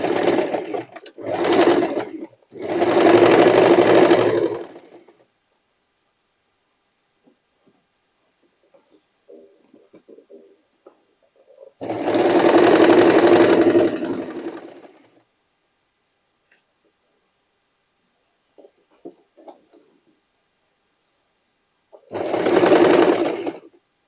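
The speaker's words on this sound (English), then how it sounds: "Now I'm starting to stitch the pieces around the neckline, and I will start from here." A sewing machine stitches sweatshirt and denim pieces around a neckline in several separate bursts of rapid whirring, with quiet pauses and faint handling noises between runs.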